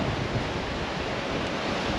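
Ocean waves at Honolulu Bay after a high surf advisory, heard as a steady, close wash of surf mixed with wind rush on the microphone, with no voices.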